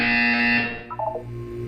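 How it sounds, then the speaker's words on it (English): A loud, steady electronic buzzer from the video game Portal 2 sounds continuously, then cuts off and gives way to a short sequence of quieter descending chime-like tones. "You will hear a buzzer."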